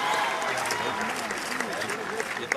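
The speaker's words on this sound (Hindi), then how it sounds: "सभी जोरदार ताली जरूर बजाएं।" Spectators at a football match opening in Moinul Haq Stadium applaud a Madhubani painting made by women, a dense wash of clapping with a voice speaking over it.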